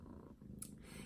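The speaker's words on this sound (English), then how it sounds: "You're gonna hear him purring." A pet cat purrs softly up close, a faint low rumble running steadily under a quiet room with one brief rustle partway through.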